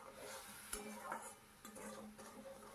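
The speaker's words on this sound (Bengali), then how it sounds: "অল্প একটু জল দিয়ে আলুটাকে নাড়াচাড়া করে আলু আর বড়ি নাড়াচাড়া করে নিচ্ছি" Potatoes and hard lentil bori being stirred in a pan with a splash of water and spices, giving soft scraping and clinking of the spoon against the pan under a faint sizzle.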